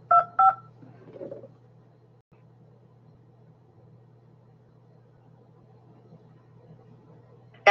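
Touchtone phone keypad tones entering a PIN: two short, loud dual-tone beeps in quick succession, followed by a low steady hum on the line.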